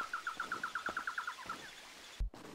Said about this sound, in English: I think you're hearing birds